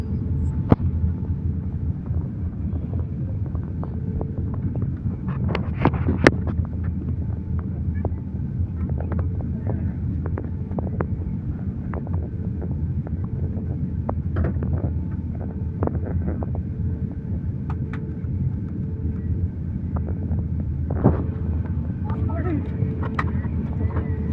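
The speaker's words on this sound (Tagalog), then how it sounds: "start na palipad ang ating sinasakyang eroplano" Aircraft on its takeoff run and climb out of Bangkok, Thailand, heard from inside the cabin as a steady, loud low engine roar with broadband rumble, scattered brief clicks and bumps throughout.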